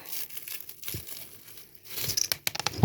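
Plastic wrapping of a mini toy package being torn open, crinkling softly at first, then a louder burst of tearing and crackling near the end, close up and with no talking.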